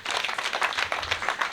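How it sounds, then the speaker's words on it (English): Audience at a school PTA annual general meeting clapping for the school administration, a brief burst of scattered, moderately faint applause from a crowd, no voices over it. "So you can clap for school administration."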